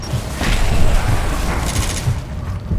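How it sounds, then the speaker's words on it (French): Explosions and combat noise in the Gears of War video game, a dense loud rumble with repeated booms and gunfire-like bursts throughout, no talk over it. "l'explosion"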